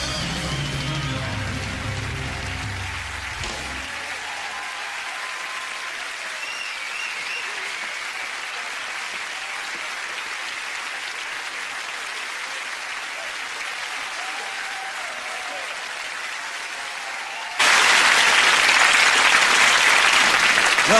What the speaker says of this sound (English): big round of applause for Super Great Sport